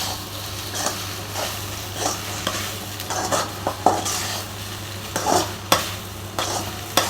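Okra being stir-fried in a pan for a poriyal, with a steady sizzle under repeated scraping and stirring strokes of a spatula, close and moderately loud, with no talking.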